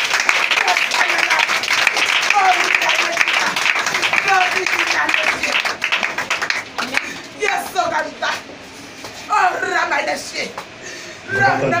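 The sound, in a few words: audience applauding and cheering for the king of kings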